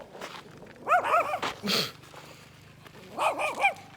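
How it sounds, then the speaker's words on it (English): Stray dogs barking outdoors in two short bursts of several barks each, moderately near, with a brief rustle between and quiet background otherwise. "Stray dogs."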